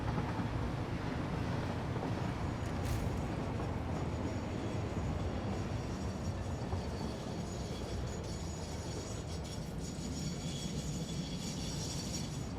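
Trains rolling along the tracks in the Satisfactory video game make a continuous loud rumbling roar with faint rattling clatter, steady throughout and without voices.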